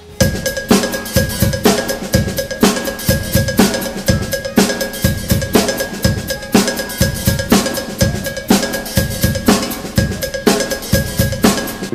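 Drum kit groove with a cowbell pattern played alongside hi-hat, kick and snare, a steady loud repeating rhythm with no voices.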